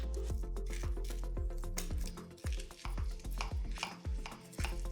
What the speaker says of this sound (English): Okay, so I'm just gonna start cutting in.